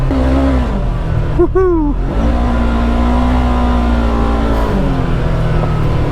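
The 114-horsepower two-cylinder parallel ProStar engine of a 2024 Polaris RZR XP 1000 side-by-side drones loudly and steadily up close, with a brief cheering voice partway through.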